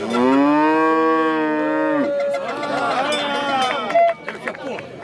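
A cow at a farmers' protest gives a long, loud, harmonic moo close by, followed by crowd noise and voices talking around it.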